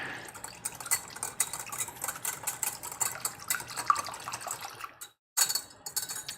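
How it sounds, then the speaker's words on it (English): A giant whisk beating a dashi mixture in a bowl, quick irregular clinks and sloshing strokes, close and fairly soft, with a brief pause before the whisking resumes. "I'm just gonna whisk it. I have my giant whisk here."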